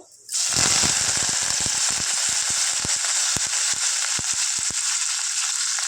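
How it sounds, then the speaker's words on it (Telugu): Dried red chillies and curry leaves frying in a pan of hot oil, a loud continuous sizzle starting abruptly and holding steady, with small pops crackling throughout. "ఇవి చక్కగా ఫ్రై చేస్తున్నాం"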